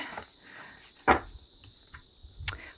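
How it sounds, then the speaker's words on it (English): Cicadas buzz in a steady, high, shimmering drone with a few soft knocks and rustles nearby. "The cicadas have just decided to start chiming in on this one."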